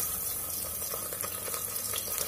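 Chopped medium onion frying in hot oil inside a pressure cooker, giving a steady, continuous sizzle with soft crackles throughout, close and moderately loud, with no talking.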